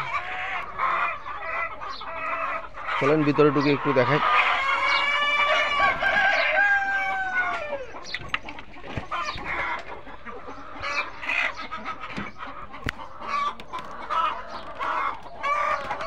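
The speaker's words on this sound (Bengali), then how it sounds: "এই যে একটা মুরগি দেখেন আমাদের" Chickens cluck close by while a rooster crows loudly, with more clucking and a brief spoken remark following.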